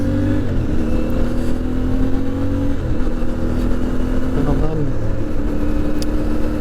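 A brand-new CFMoto 450MT motorcycle rides along a road near Port Waikato, its engine droning steadily and close with shifting revs and constant wind roar throughout.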